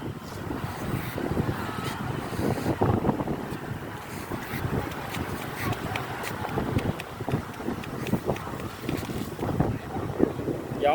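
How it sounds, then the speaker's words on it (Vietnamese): Strong sea wind buffets the microphone on a seaside shore at night, with waves washing in underneath in a continuous, rough roar; faint voices may be mixed in. "Gió biển, gió lớn, ngoài biển sóng biển."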